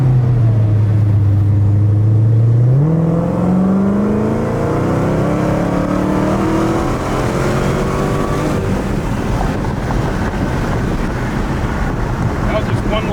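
A Dodge Redeye engine, capped by a 4,000 rpm rev limiter, climbs in one long beefy pull after a low rumble, its deep tone rising steadily under heavy wind buffeting on the microphone.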